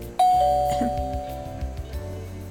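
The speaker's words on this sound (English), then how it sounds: "Huh, that was the doorbell." A doorbell rings once inside the video game Amnesia, a clear chime that decays slowly over soft background music, loud and close with no talking.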